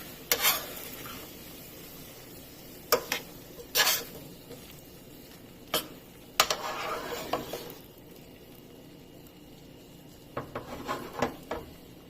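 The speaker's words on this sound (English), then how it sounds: "Two tablespoons of soy sauce is added. And I'm going to mix again." Shrimp, carrots and vegetables stirred in a pan after soy sauce goes in, spatula knocks and scrapes in short bursts against the pan over a faint sizzle, with quieter gaps between.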